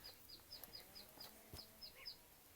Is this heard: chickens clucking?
yes